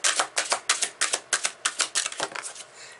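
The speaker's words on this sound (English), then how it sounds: "So just regular shuffling like this" Tarot cards riffle-shuffled by hand, about a dozen crisp, rapid fluttering bursts in an even rhythm, close and clear, with no voices.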